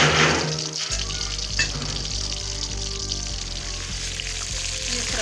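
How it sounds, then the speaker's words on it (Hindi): Green pea kofta fry in hot oil, giving a steady, close sizzle and bubbling with a brief clatter near the start, and no voices over it. "ये फ्राई हो गया, इनको निकाल दिया।"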